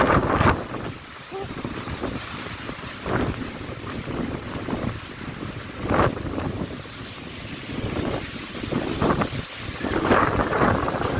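Strong gusting wind buffets the microphone in loud, uneven bursts, with rushing floodwater overflowing onto a road in the background and voices talking over it.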